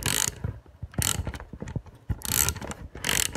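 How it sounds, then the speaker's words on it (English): Socket wrench ratcheting in quick bursts while snugging a bolt during a joystick swap on an X-Arcade Tankstick, the clicking rattles repeating in several loud, close runs with short pauses between them. "then you just kind of use your socket wrench"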